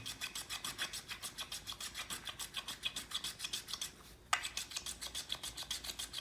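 A small flat hand plane shaves a wooden pole being rounded from an octagon toward a cylinder, giving steady rhythmic rasping strokes, about three per second, with one brief pause.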